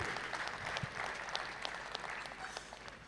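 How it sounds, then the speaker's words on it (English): Faint, scattered clapping from guests at a hosted food event, with individual claps standing out over a low background murmur. "Can we give a big round of applause to the Wings, the agency who has curated this event?"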